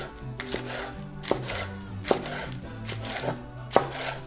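Repeated knife chops on a board while iceberg lettuce is cut into strips, several crisp strokes at an uneven rhythm, close and clear.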